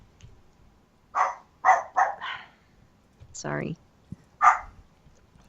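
A playful dog barks a rapid burst of three or four close, sharp barks, then a drawn-out whine-like yelp and one more bark, with brief human speech in between.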